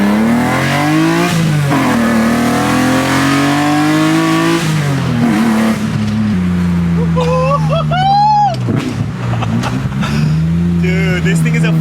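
A BMW E30 fitted with a swapped S54 straight-six revs hard on a dyno, loud and close, with long rising pulls, a brief lift, then further climbing runs.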